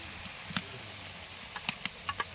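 Garlic paste dropped into a hot pan already holding tomatoes for Bengali chicken kasha gives a soft, steady sizzle with a few light ticks and clicks near the end, fairly quiet, with no voices.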